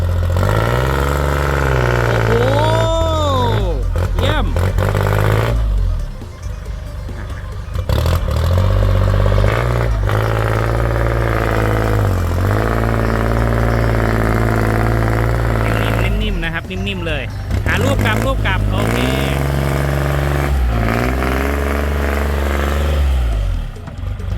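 A Kubota farm tractor's diesel engine idles with a steady low throb and revs up repeatedly in short pulses, loud and close, while someone talks over it.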